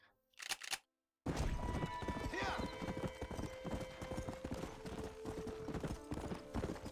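Horse hooves gallop in a rapid, steady clip-clop in the Red Dead Redemption video game, loud and close after a brief opening burst and a short gap, with a voice talking over the hoofbeats.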